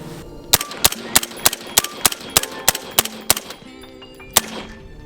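A suppressed rifle fitted with a MODTAC suppressor shield fires a string of rounds: loud, close, evenly spaced cracks about three per second, then a short pause and one more shot.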